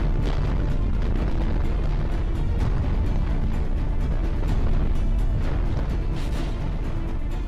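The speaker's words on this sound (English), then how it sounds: "La Palma volcano erupts." Volcanic eruption on La Palma: a dense, continuous deep roar with heavy low rumble and scattered crackling bursts, loud and steady throughout.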